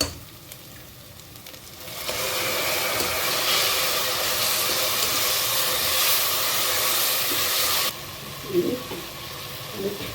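Tomatoes hitting a hot pan of golden fried onions and curry leaves for Tamil tomato rice, giving a loud steady sizzle that starts abruptly, holds for several seconds, then drops back to a softer frying hiss.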